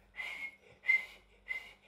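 A person whistles three short, high, shrill blasts in an even rhythm, imitating a rescue whistle. Each blast is close and clear, with brief quiet gaps between them.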